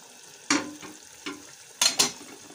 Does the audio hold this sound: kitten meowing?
no